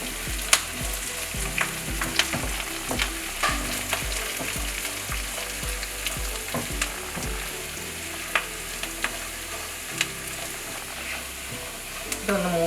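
Curry leaves dropped into hot oil in a pan for a Kerala beef ularthiyathu: continuous loud crackling and sizzling, with sharp spitting pops and a few clinks from stirring.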